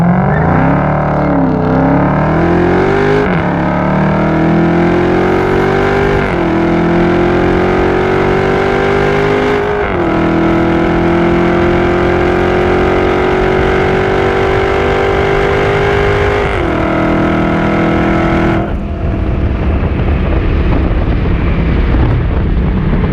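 A Dodge SRT Hellcat with an 8-speed automatic and a Corvette C7 Z06 with a 7-speed manual roar through a half-mile drag race, loud and close, engines climbing in pitch through several gear shifts before lifting off at the end.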